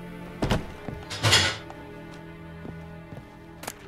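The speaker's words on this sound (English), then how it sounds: "my son is banging around in the dishes in there." Dishes banged around in another room by a child: a few muffled thuds and clatters, with one louder clattering burst, set distantly over a steady low hum.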